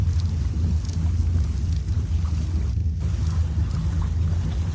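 Steady low wind-and-water rumble of a sailing boat under way in a video game, a continuous broadband wash that stays loud and even with no talking.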